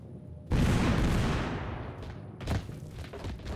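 A sharp, close grenade blast in Totally Accurate Battlegrounds, a sudden loud boom that rumbles and decays, followed by a second, smaller thump, with faint gunfire around it.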